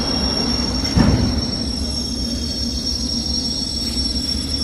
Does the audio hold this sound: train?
yes